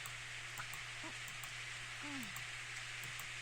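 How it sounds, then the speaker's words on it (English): Light rain from a Steins;Gate visual novel scene gives a soft, steady hiss with scattered faint drop ticks and a few quiet tonal chirps, all fairly faint and without speech. "The raindrops start landing on my forehead."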